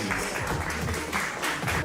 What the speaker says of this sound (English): Clap it up for Kim Clayson.